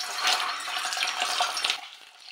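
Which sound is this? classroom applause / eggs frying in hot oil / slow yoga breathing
eggs frying in hot oil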